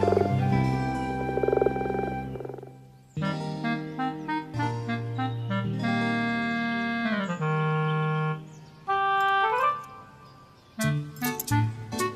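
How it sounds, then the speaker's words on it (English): Frogs croak by a pond in a loud, close series of throaty, resonant calls that come in rhythmic bursts with short pauses between them. "just listen to the sounds we like to make. What are we? Can you tell? We're frogs."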